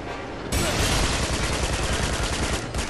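Automatic machine-gun fire in the video game Uncharted 2, a loud, dense burst of rapid shots starting half a second in and continuing without pause to the end.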